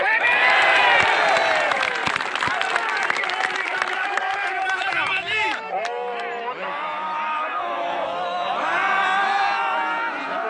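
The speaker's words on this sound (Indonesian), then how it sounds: "Tepuk tangan untuk PBB." A crowd at a Pemuda Batak Bersatu members' gathering breaks into lively clapping mixed with cheers and whoops. Voices shout over it, and the applause thins into excited chatter.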